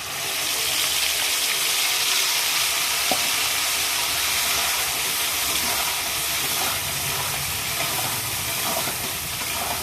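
Potatoes and spice paste fry in hot oil in a pan while a chicken dish is being cooked, giving a steady, close, bright sizzle that hisses evenly throughout with no voices.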